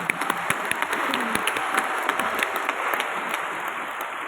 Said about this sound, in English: especially to the graduates of 2025, round of applause.